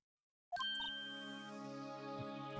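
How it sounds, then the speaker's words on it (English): A single bright electronic microwave oven ding rings out after a moment of silence, then its tone lingers and slowly fades. "Microwave's done."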